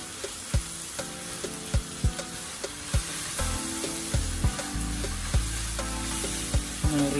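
Bolognese sauce for spaghetti cooking in a pan while it is stirred, with a low, continuous sizzle and a series of sharp knocks from the spoon against the pan, close and fairly quiet.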